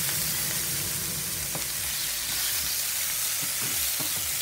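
Turkey strips, blanched beforehand, fry and roast in a hot pan with a steady, close, loud sizzle and a few stirring scrapes, with no talk.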